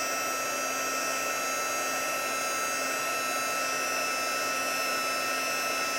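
A craft heat tool for heat embossing runs steadily with a constant whirring blower hum and whine, heard close and alone, no speech.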